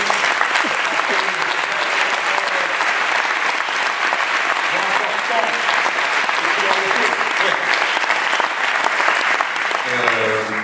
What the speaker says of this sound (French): Alors je dis bonjour à Jean-Claude Carrière, on peut l'applaudir.